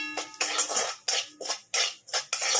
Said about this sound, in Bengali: দিয়ে আমি ভালো করে এটাকে একটু নাড়িয়ে নিচ্ছি